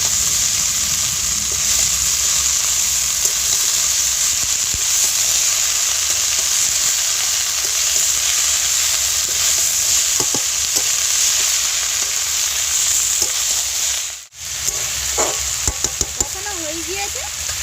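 Loud, steady sizzling of greens (shak) being stir-fried with spices in a hot pan, with occasional scraping stirs over continuous frying hiss, close up.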